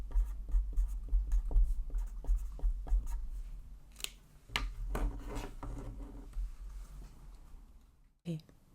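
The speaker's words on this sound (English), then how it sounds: "just gonna write Antique Day." A pen writes on a paper calendar in quick scratchy strokes and taps, close and crisp, with short pauses between words and a soft voice murmuring near the end.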